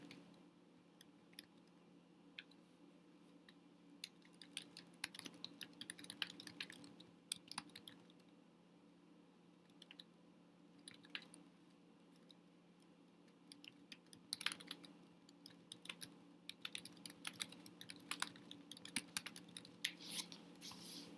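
Typing on a computer keyboard: soft, irregular key clicks in quick bursts with brief pauses, close and quiet over a low steady room hum, no voices.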